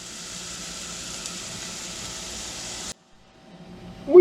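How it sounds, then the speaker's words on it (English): Vegetable mix sautéing in a pan on a stove at medium-low heat, a steady soft sizzle for about three seconds, then cutting off abruptly into near silence before a brief louder knock at the end. "We've been sauteing our veg mix for about, 10 minutes."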